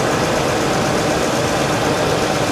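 A 6.2 liter engine in a retired AT&T work truck idles steadily up close, a smooth continuous rumble with no talking over it.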